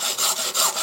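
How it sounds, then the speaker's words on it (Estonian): A hand saw cuts through a fiberglass tent pole section in quick back-and-forth strokes, about four close, loud rasps in under a second, with no talking. "saeme siis selle detaili nüüd siis meile sobivasse pikkusesse"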